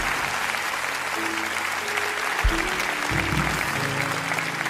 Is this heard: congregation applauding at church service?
yes